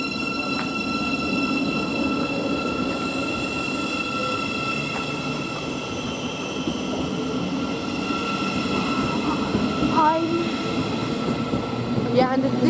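A Thameslink Class 700 electric train rolls through West Hampstead station, giving a steady, loud rumble throughout with high whining tones and brief wheel squeals, while people chat nearby on the platform.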